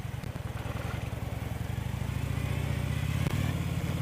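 Motorcycle ridden carefully on a slippery road during a road trip, a steady droning engine with a fast pulsing rhythm that grows slightly louder, close and continuous, without talk.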